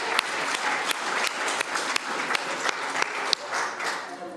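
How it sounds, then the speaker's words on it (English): Crowd applause for a performer named Jack at a Halloween-themed show, moderately loud steady clapping with distinct individual hand claps popping out of the wash. "Let's give Jack a round of applause."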